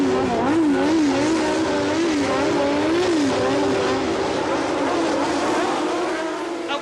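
Formula 1 race cars of the 1977 season roar away from the start of the British Grand Prix, a dense, loud wall of engine noise with rising and falling revs from several cars at once.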